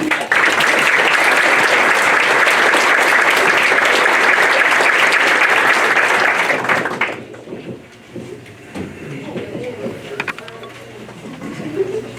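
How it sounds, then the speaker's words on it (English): An audience at a school awards ceremony claps loudly and continuously for student teammates for about seven seconds, then the clapping cuts off abruptly, leaving quieter room sound and movement. "So if you would please give them a round of applause"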